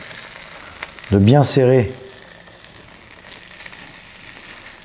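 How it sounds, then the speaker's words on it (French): Grated potato and asparagus pressed into a pan as a galette, frying with a faint, steady sizzle throughout while a voice talks briefly near the start. "déposer ma pomme de terre avec mes asperges dans la poêle pour faire ma galette"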